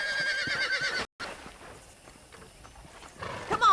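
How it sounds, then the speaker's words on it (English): A horse in the video game Red Dead Redemption neighs loudly up close, followed by soft clip-clop hoofbeats and movement, ending with a brief sharp whinny-like sound, no speech. "let's see if you can still ride a horse"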